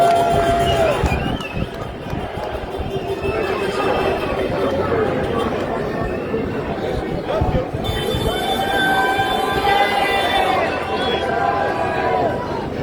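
A large crowd of several thousand protesters fills a Melbourne street with steady chatter, shouting and occasional cheers, with traffic noise and a distant horn-like tone mixed in.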